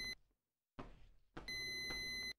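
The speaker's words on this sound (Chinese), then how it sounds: "我的炉子是不是在哔哔叫啊？" An oven in a horror video game gives a run of sharp, high electronic beeps, a short burst followed by a longer sustained stretch, clear against near silence.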